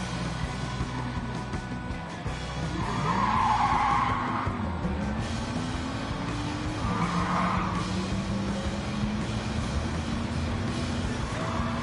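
Tires squeal and skid under late braking in the racing game Gran Turismo 7, with long whining slides rising in pitch over a steady engine drone, all without any talk.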